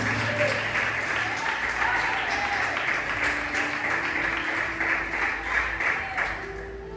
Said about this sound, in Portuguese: Glorifica com as fortes palmas para Jesus